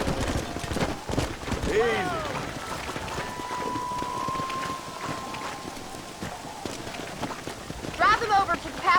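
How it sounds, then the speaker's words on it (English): Rain falls in the Red Dead Redemption video game as a steady hiss of drops on surfaces, mixed with horse hooves clip-clopping and occasional animal calls and voices. "We're not gonna be able to hear each other in this rain."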